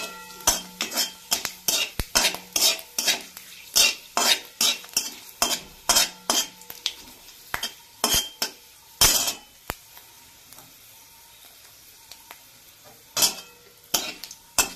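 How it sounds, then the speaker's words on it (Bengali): Dry red chillies, a bay leaf and five-spice (panch phoron) frying in oil in a pan, heard as a brisk run of metal spatula scrapes and clinks against the pan over a soft sizzle, pausing midway before resuming. "আর একটু শুকনো লঙ্কা, একটা তেজপাতা আর 5 ফোড়ন দেব। তো এটাকে আমি ভালো করে একদম লাল করে ভেজে নেব।"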